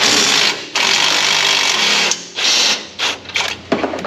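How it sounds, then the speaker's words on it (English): A 90-degree impact wrench hammers at cross member bolts under a Ford Explorer with a 5.0 V8, loud rapid rattling bursts in several short stop-start pulls with gaps between them. "90-degree impact coming in again. We're gonna get the bolts for the this cross member out of here."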